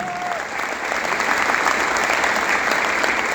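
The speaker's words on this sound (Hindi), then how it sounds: "जोरदार ताली होनी चाहिए" A business meeting crowd breaks into loud, sustained applause, many hands clapping densely and evenly throughout, with a brief tonal trace at the start and no talk over it.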